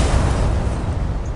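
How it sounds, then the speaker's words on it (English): A cab explodes on a little-used city street, heard as a dense, sustained low rumbling blast with heavy bass that holds steady through the short moment, loud and close with no voices. "The explosion was terrific."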